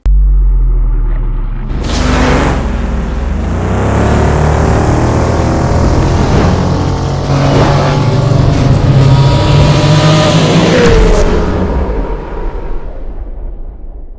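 A 2021 Yamaha YB125Z DX motorcycle engine runs close by with a steady idle rumble, broken by two strong revs that climb and fall back.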